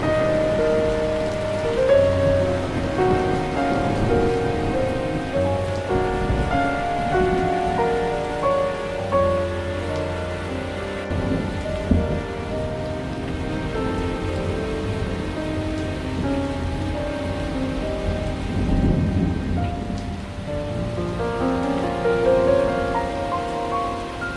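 Steady rain in a Hindi animated cartoon, a continuous wash of falling drops beneath sustained musical tones, with only a faint hint of distant thunder.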